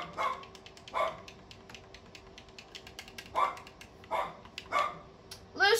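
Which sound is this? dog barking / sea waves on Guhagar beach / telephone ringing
dog barking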